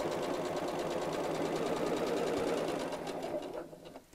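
A sewing machine stitches around the curve of a bag, with a continuous, close, rhythmic mechanical whir that runs steadily and then slows and fades near the end.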